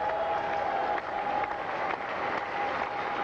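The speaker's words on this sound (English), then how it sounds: "To the applause of everybody here, a standing ovation from the people here at Eden Park." Sustained applause from a large crowd at a cricket test match at Eden Park, a dense wash of clapping that carries on steadily throughout with faint cheering mixed in.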